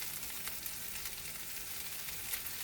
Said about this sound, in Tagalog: Fry natin yung ating manok.